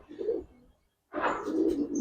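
Giribaz and high-flyer pigeons cooing close by in soft, low, throaty bursts, one call, a brief pause, then a longer rolling coo, with faint chirps behind.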